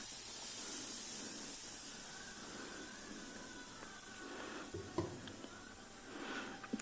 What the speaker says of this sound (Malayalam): ആ മൂത്ത് വന്നതിലേക്ക് നമ്മളിതാ നമ്മുടെ വിളിമ്പി തട്ടി കൊടുക്കുകയാണ്